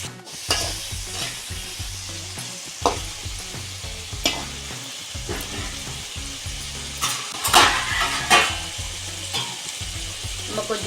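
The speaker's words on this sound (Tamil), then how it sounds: "அப்போ தான் வெங்காயம் தக்காளி சீக்கிரம் வதங்கும்" Onions and tomatoes with turmeric fry for tomato thokku, a continuous close sizzle with a spoon scraping and clinking against the pan at irregular moments, with no talking over it.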